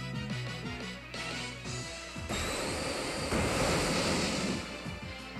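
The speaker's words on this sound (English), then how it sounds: "I love the sound effect that Scald makes." Scald, a water-type move in the Pokémon Moon video game, makes a loud rushing, surf-like splash and hiss that swells over the game's background music tones.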